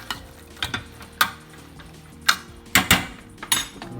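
A spoon stirs a sweet and sour chicken mixture with peas in a pan, producing a series of sharp clacks and scrapes against the metal at an irregular pace, close and fairly quiet with no voices.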